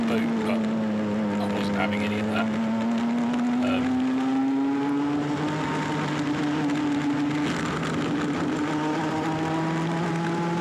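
Club100 Sprint 60 racing kart at Whilton Mill, its engine droning loud and close with a slowly rising then steady pitch, other karts faintly behind.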